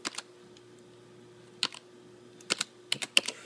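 Typing on a computer keyboard: scattered light key clicks in small bursts, close and quiet against a near-silent background.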